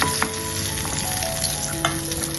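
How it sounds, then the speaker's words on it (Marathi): Raisins roast in hot ghee in a pan, a steady, dense sizzle with occasional sharper pops and stirring clicks, close and continuous with no talking. "तुपावर मनुके भाजून घ्यायचे"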